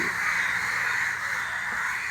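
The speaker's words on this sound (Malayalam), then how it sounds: "ആ കാക്ക പറന്നു പോയിരിക്കുന്നു, ഏതാണ്ട് രക്ഷപ്പെട്ടു" A crow caws in a steady, sustained call over a constant background, with no talking present.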